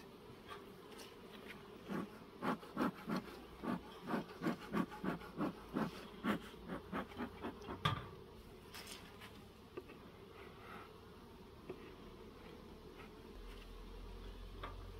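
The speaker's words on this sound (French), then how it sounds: "Nous on a des abeilles" Honeybees buzz at a beehive colony during a beekeeper's hive inspection, a pulsing, rhythmic hum of passing bees for the first half, then a softer, steadier background drone.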